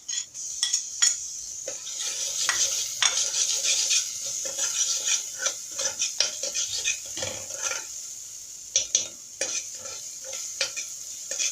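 Garlic going into a pan of onions frying until golden, with steady sizzling under repeated stirring and scraping of a utensil against the pan, close up and with no talking.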